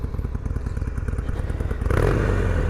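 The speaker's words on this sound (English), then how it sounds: "she sounds good even with the stock exhaust" A 2016 motorcycle with stock exhaust idles with a rapid, throaty putter close by, then swells briefly as the throttle opens.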